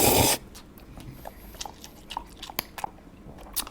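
Someone eating spaghetti at a mukbang meal, with close, wet chewing, smacking and brief slurps coming in irregular bursts after a short loud noise at the start.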